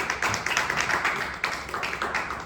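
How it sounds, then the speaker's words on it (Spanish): Members of a church congregation clap for the Lord in praise, loud and close, first in rhythmic bursts of claps and then in ragged patches, with no speech over them. "Dale fuerte ese aplauso al Señor."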